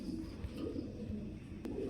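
Club-kept Girijel pigeons coo in low, soft, continuous murmurs, close by and fairly quiet, with a single faint click near the end.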